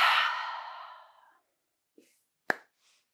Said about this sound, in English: take a final big breath in. And a big breath out.